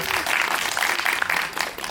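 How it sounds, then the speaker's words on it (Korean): A small audience claps in birthday applause at a film screening talk, a dense patter of hands lasting a couple of seconds at moderate volume. "저희 생일 축하 박수 한번"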